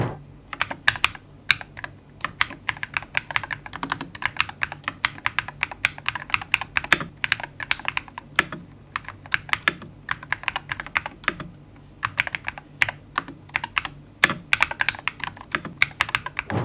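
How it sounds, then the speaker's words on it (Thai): Rapid typing on an AJAZZ AK680 Max HE magnetic-switch keyboard, with irregular bursts of crisp key clicks and occasional louder thocks from bigger keys, close and with no talking. "การทดสอบเสียงต่างๆของตัวคีย์บอร์ดตัว a j a z AK680 Max HE"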